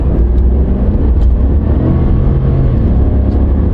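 A vehicle with a 10-speed automatic transmission pulls away from a stop, its engine rumbling steadily and loud as it accelerates, with a slightly rough, bogged-down drone and no talk over it.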